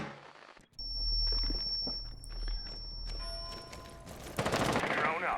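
Rapid gunfire crackles during a Rainbow Six Siege match, with bursts of automatic shots, footsteps and a metallic ding amid in-game noise. A loud clattering burst comes near the end.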